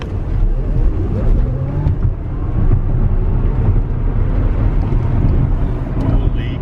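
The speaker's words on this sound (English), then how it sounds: "0 to 60 in Ludicrous mode on the P90D Ludicrous option for the Model X." A Tesla Model X P90D in Ludicrous mode accelerating hard from a standstill to 60 mph near the Fremont factory: a steady electric whine rising in pitch over road and wind roar, loud and continuous throughout.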